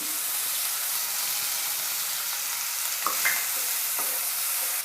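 Chopped onion sizzles steadily in hot oil, a loud, dense frying hiss with a few brief stirring scrapes near the end.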